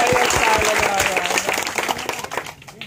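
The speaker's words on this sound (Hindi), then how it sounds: "आशीर्वाद दे दीजिए ताली बजा के।" Audience applause at a Hindi political speech, a dense burst of many hands clapping that starts loud and tapers off toward the end, with some crowd noise mixed in.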